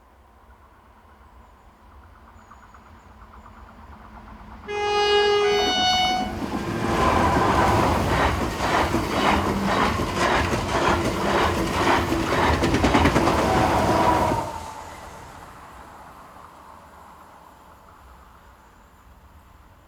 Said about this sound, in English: To the south of the village we look west as 73043 passes, forming the 1106 from Madrid.